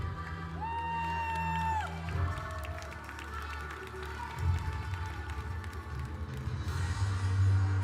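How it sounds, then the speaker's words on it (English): A crowd at the Arco speed climbing finals applauds and cheers for the women's under-19 medalists, steady clapping mixed with whoops and shouts that stay loud throughout, while music tones ring over the noise. "please make an applause and welcome the medalist for the women under 19"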